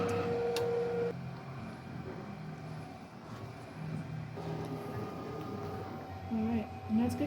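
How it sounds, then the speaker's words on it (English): A DTG garment printer running, a steady mechanical whir and hum with a moving print head and faint ticking, under quiet background tones and a few brief beeps. "We're going to press this blue button and it's going to print."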